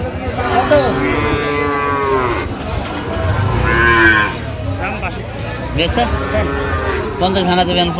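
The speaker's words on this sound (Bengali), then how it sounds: "আমরা দেখছিলাম যে গরুগুলো কিনছেন শাহাদত ভাই আমরা সেই গরুগুলোর দপ্তর দিচ্ছি" Sahiwal cattle low and moo repeatedly at a farm in Cox's Bazar, the calls loud and close, with voices murmuring faintly in the background.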